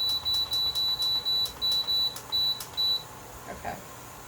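A stove or cooker timer emits a run of short, high electronic beeps in a fast regular pattern while being set, then falls quiet, with faint background hum in a kitchen.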